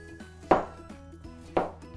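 A kitchen knife slices potatoes into thin slices for French-style potatoes: two sharp cutting strikes against a board, about a second apart, over a low steady background hum.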